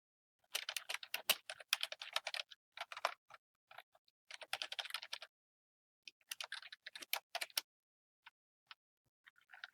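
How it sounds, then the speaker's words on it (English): Fingers tap out quick, soft clusters of clicks on calculator keys in a quiet room, in irregular bursts with short pauses between. "whenever I do that, I type it in my calculator"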